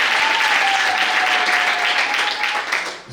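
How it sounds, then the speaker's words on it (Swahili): Applause fills a church hall, dense and steady from start to finish and tapering slightly at the end, with a faint sustained tone running beneath the clapping. "Tumpigie Bwana Yesu makofi kwa ajili ya neno"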